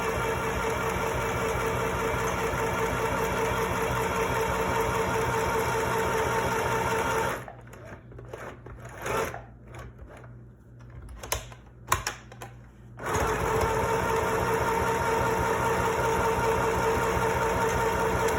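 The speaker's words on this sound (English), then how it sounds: "So begin sewing, back stitch and go forward." A sewing machine runs steadily while stitching fabric for a face mask, a loud continuous motor hum broken by a stretch of short stops and starts midway as the fabric is pivoted, then resuming.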